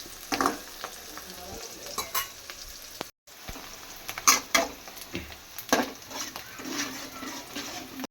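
Green chilies, onion and garlic frying in oil in a pan, a continuous sizzle punctuated by frequent scraping stirs and occasional clinks of a utensil against the pan, close up, with a momentary gap in the sound.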